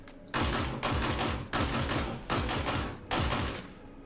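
Pulverizer LMG firing in a video game: dense, loud bursts of automatic fire in roughly four long strings separated by brief gaps, heavy thumping low end, no voices.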